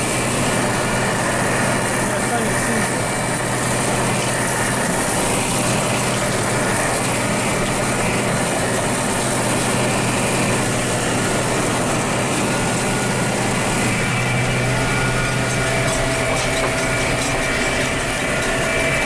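A tractor mows a hay crop, its engine droning in a steady, loud, unbroken hum with a faint mechanical rattle from the mower, running throughout with no voices.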